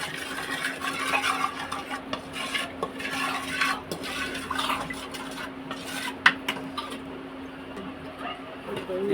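A utensil stirs and mixes an egg mixture for an omelette with chicken masala in a bowl. The scraping and clinking is steady and close, with a few sharper knocks against the dish.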